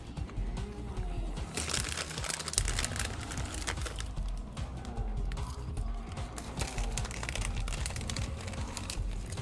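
Snack bag crinkling and crumpling close by in irregular rustling bursts, mixed with clicky tapping and faint background voices.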